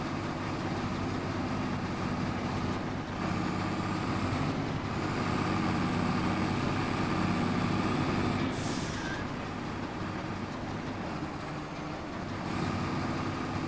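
An old vintage tractor engine runs steadily on a farm, a continuous low rumble with a faint whine, holding the same level throughout without pauses.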